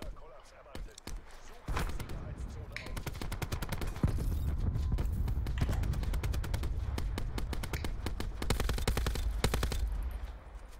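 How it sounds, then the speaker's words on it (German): Gunfire in the video game Call of Duty Black Ops 4 during a Blackout match: dense, rapid bursts of automatic shots, sometimes overlapping, run loud and nearly continuous under a player's occasional speech. "dass die Schüsse auf mich gehen"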